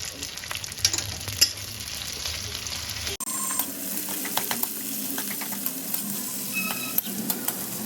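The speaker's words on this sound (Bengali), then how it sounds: "আর দেখো এখানে মাছ ভাজা হচ্ছে" Shrimp sizzles steadily in a hot pan, with occasional stirring scrapes and a brief break partway through.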